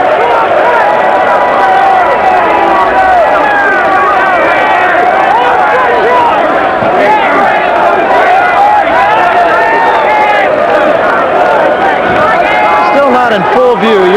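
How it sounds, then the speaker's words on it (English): Big arena crowd at a 1986 heavyweight boxing event roaring and cheering steadily as Frank Bruno makes his ring walk, a dense continuous wall of voices and rising shouts throughout. "In full view, you'll hear chanting, Bruno, Bruno, Bruno."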